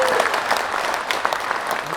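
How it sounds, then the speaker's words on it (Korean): Audience applause at a Korean book concert, a steady wash of many hands clapping throughout, dense and continuous with a faint voice briefly audible early on. "여러분의 큰 박수 부탁드립니다."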